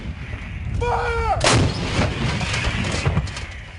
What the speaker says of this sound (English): And back at base, heavy guns opened up.